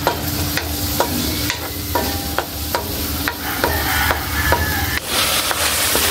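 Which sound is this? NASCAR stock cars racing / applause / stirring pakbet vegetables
stirring pakbet vegetables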